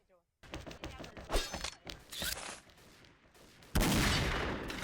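Several gunshots go off in the sniper shooter XSHOT, sharp and irregular, with mechanical clanks between them. A louder blast comes near the end, and a voice talks faintly underneath.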